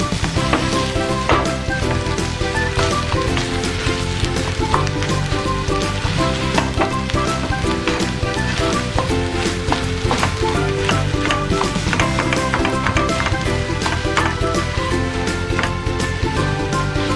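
Bonda filling sizzles steadily in a pan on a gas stove, with loud continuous frying hiss and repeated scraping clinks of stirring throughout, no voices.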